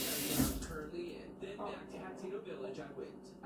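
A strong burst of tap water gushing and splashing into a sink, loudest at the start and then continuing under chatty voices talking nearby.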